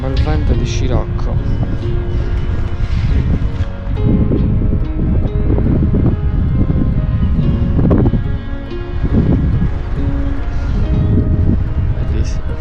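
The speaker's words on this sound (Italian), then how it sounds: "Qua arriva un bel vento di scirocco." Strong sirocco wind buffeting the microphone on the hilltop of Monte Urpinu in Cagliari at dawn, a loud, constant low roar with gusts while someone talks over it.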